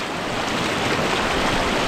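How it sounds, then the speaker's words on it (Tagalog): Strong flowing water rushes steadily at close range as a broad, constant roar that stays loud and even, with faint wind noise and no voices. "Lakas pala ngayon ng tubig."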